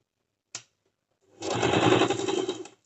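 A sewing machine stitches elastic onto cigar pants: one short mechanical tick, a pause, then a rapid rattling run of stitches lasting over a second, close and moderately loud.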